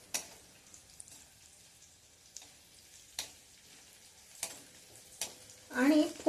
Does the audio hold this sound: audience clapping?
no